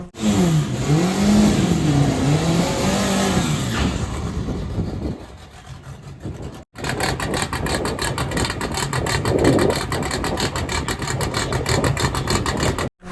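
A VW Golf Mk4 drag car at Santa Pod during VW drag racing qualifying, its engine loud and revving hard, rising and falling through gear changes, then a dropout before a second burst of engine roar.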